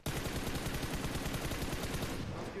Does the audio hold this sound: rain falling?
no